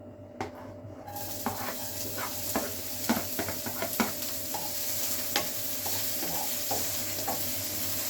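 Garlic and onion sizzle in a hot pan while making siopao filling, a steady close frying hiss with repeated scraping and clinking stir strokes throughout.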